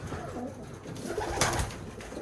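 Birmingham Roller pigeons coo softly inside a cage, their low, murmuring calls overlapping against a busy background, with one brief brighter rustle near the middle.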